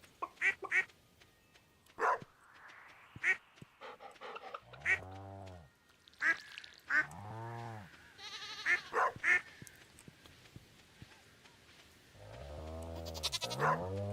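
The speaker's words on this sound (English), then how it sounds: "Hello, goats." Goats on the farm in the video game Stardew Valley, giving a string of short, nasal bleats in scattered bursts with brief pauses, fairly close and clear over a quiet background, with no talking.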